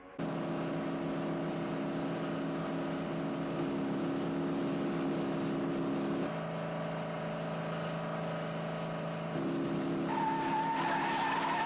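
Race cars tear along a cliffside stretch of track, engines droning steadily and tyres skidding in a continuous loud roar that shifts pitch partway through, with no talk over it.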